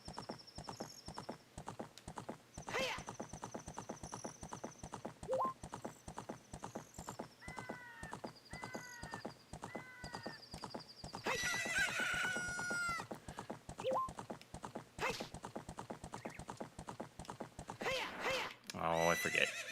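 In Zelda: Ocarina of Time, a horse gallops in a rapid, even clip-clop of hooves, broken by several whinnying neighs. A rooster crows partway through, and chiming game effects sound over the steady hoofbeats.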